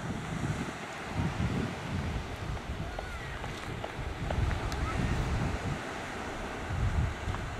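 At a city beach on the Black Sea at sunset, sea waves wash in with a steady rumble under gusty wind buffeting the microphone, with no voices clearly heard.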